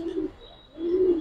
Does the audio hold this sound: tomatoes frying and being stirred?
no